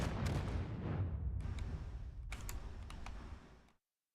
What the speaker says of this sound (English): I just heard like a secondary explosion out of nowhere.